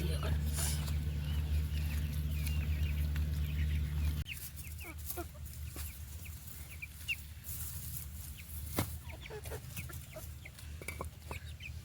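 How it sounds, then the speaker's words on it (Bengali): Small farmyard chickens cluck and peep as they are fed, with scattered calls over a low background hum and a person talking nearby. "মুরগিদের খাবার দেবো আমার ছোটো মুরগিগুলোকে"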